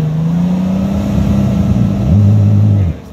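An off-road vehicle on a rough Carpathian trail revs its engine hard and steadily while backing up for a run-up, the note climbing and holding loud before cutting off near the end.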